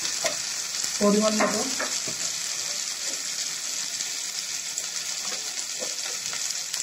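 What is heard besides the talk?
chicken sautéing in a pan with chili paste and turmeric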